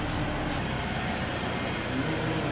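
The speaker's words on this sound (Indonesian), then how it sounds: "Ini untuk mesin, tadi kita langsung nyalain aja udah langsung jeleng ya Pak." A used Toyota Alphard, formerly a taxi, idles with a steady, even engine hum under broad, constant background noise.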